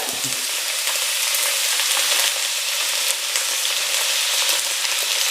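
Bean sprouts, well drained, sizzle in a frying pan while cooking lumpia filling with pepper, a steady bright frying hiss running the whole time with a brief louder burst as they go in.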